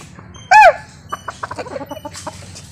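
A chicken lets out one loud, sharp squawk and then a quick run of close, choppy clucks.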